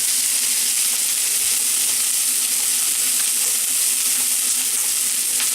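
Continuous loud frying sizzle of onions, a dense crackling hiss from a hot pan that holds steady throughout, with faint stirring clicks.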